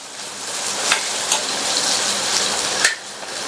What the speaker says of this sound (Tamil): இதுல ஒரு மீடியம் சைஸ் வெங்காயத்தை சேர்த்துட்டு இந்த வெங்காயத்தை 1 நிமிஷத்துக்கு வதக்கினா போதும்